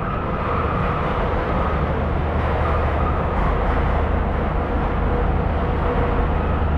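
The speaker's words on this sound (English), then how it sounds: "Here's the train." Chiang Mai to Bangkok train arriving at a Thai station platform, a steady low rumble and broadband roar held at even loudness throughout with no voices.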